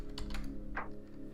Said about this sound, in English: I don't know how fast I can type, but it's really fast.